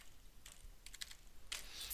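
A computer keyboard typed on to fill in a table, sounding as a few faint, scattered key clicks that come in short bursts against a quiet background.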